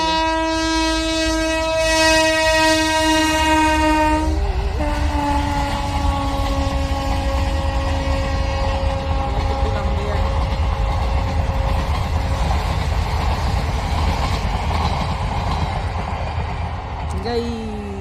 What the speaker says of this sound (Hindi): वो वहाँ से आ रही है ट्रेन, रामनगर से आएगी सीधे काशीपुर के लिए।